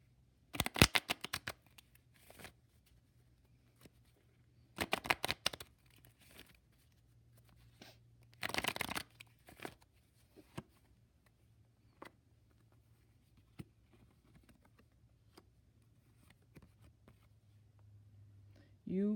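Tarot cards are shuffled in three short, crisp riffling bursts, with softer card slides and taps in the gaps between them in a quiet room.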